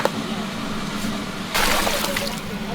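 Apple snails being washed in water by hand, a continuous sloshing and splashing at close range that grows louder partway through.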